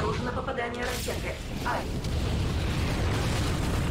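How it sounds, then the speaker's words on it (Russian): A deep booming rocket-hit explosion in Ratchet & Clank bursts out after a moment of synthetic game sounds, leaving a sustained rumbling roar that fills the rest of the clip. "Обнаружено попадание ракеты."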